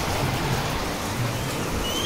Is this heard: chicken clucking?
no